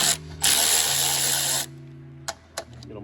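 A 13mm strut top bolt on a BMW E46 suspension is loosened with a powered tool, giving a loud, close buzzing whir for about a second, followed by two sharp metallic clicks.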